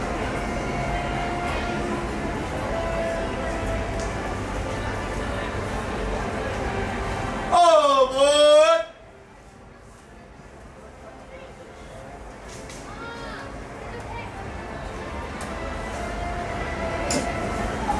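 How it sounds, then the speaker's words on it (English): Disneyland Railroad train running through the park, a steady rolling rumble of wheels on track that carries on throughout, with a short whistle blast midway before the rumble drops and slowly swells back. "welcome aboard the Disneyland Railroad"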